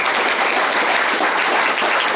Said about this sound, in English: So please, a massive round of